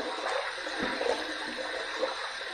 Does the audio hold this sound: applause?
no